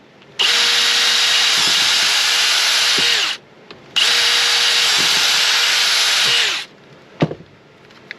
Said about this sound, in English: Then I'll take my drill bit, and I'll drill both holes.